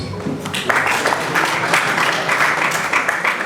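A crowd at the close of an event in Burundi breaks into applause, a dense continuous wash of clapping that swells after a moment and holds steady, with a voice faintly heard at the start.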